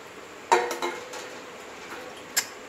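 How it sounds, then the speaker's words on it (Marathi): A metal plate is set down as a lid on a pot of chicken cooking at home, giving a close, bright clatter and a second clink followed by a quieter rattle and a final sharp tap, with no voices. "आता ताटली ठेवून शिजत राहतात"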